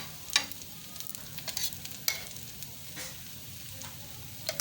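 Sweet sugar-filled paratha cooking in ghee on a hot griddle, a soft steady sizzle with a few brief scraping or turning clicks, close and fairly quiet, no one talking.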